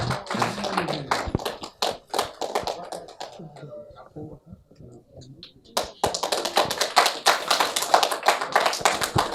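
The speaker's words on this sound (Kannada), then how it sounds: "ಸೊ ಬರಲಿ ಒಂದು ಜೋರಾದ ಚಪ್ಪಾಳೆ ಶ್ರೀತ ಮಹೇಶ್ ಅವರಿಗೆ" Audience at a South India pageant event clapping for a man on stage, with loud, dense applause at the start, a quieter stretch in the middle, then the applause swelling again toward the end.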